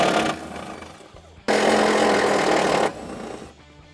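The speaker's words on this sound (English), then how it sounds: "To do that, we got to remove those two bolts." Power tool whirring loose two bolts from a mounting bracket on a 2016-2022 Super Duty truck, one short burst followed by a loud sustained run of about a second and a half, close and alone.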